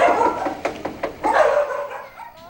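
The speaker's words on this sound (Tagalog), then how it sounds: "Maliban sa tahol ng mga aso" Several dogs bark at a house in the Philippines in a run of sharp, irregular barks with a few yips and a whimper. They sound fairly close, with no talk over them.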